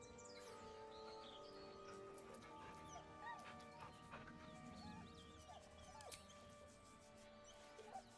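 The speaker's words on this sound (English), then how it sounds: "The dog whimpers nervously," A dog in the Baldur's Gate 3 video game gives faint, nervous whimpers and short high yips over a steady, murky ambient drone with occasional chirps.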